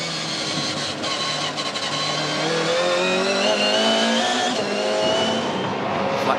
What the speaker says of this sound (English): Flat plane crank, different architecture at the heart of the engine. Still a 5-litre V8. Man, it sounds good.